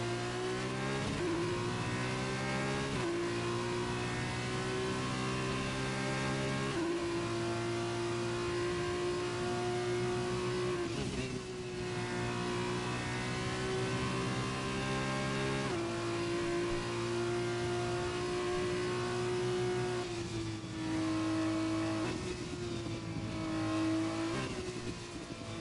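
A racing car engine drones steadily through a flying lap in a racing game, holding high revs with brief dips at gear changes. The sound is continuous and fairly loud, with no talk over it.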